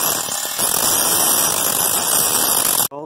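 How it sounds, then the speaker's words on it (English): An angle grinder cutting the raised lip off a Volvo brake rotor's edge, a loud, steady, harsh metallic grinding whine held close up for nearly three seconds before cutting off abruptly. "I'm going to have to grind the lip off a section of the rotor"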